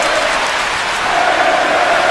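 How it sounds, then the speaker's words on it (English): Wrestling crowd in an arena at a women's wrestling event, a dense, loud wall of voices rising and falling steadily throughout, with a faint chant-like tone sustained over the roar. "you can hear the crowd chanting for women's wrestling"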